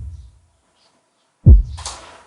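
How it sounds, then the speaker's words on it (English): A single unprocessed bass kick drum sample in FL Studio hits once, deep and thumping, with a short, breathy decay after it, and no one speaks. "The bass kick only sounds like this"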